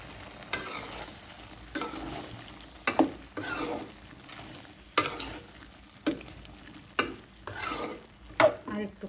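Vegetables with dried shidol fish, beans, potato and tomato sautéing in a pan: soft sizzling under repeated scraping stirs that land at irregular intervals, close and moderately quiet.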